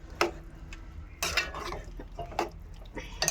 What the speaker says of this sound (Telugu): ఇప్పుడు గోంగూరలో ఈ కూర అంతా కలిసిలా కలుపుకోవాలి.